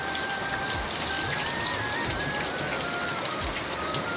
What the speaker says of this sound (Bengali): সেই হারে বৃষ্টি হচ্ছে।